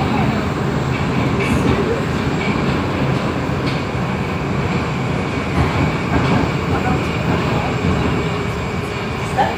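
A Moscow-2024 metro train runs on the Zamoskvoretskaya line with a steady, loud rumble and rail clatter throughout, the sound of riding inside the car, with faint talk now and then.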